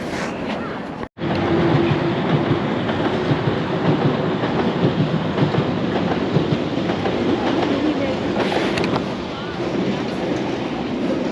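A London Underground train rumbles past up close at a junction, steady and loud, with faint rhythmic rattling of wheels over the track throughout.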